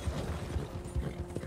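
Horse hooves clip-clop in a steady uneven rhythm in the Western game Red Dead Redemption, close and moderately loud over a busy background of mechanical game noise.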